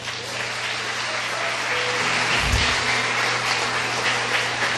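Church congregation applauding together in praise, a steady, fairly distant roar of many hands clapping that swells slightly midway and keeps going to the end, with no voices standing out.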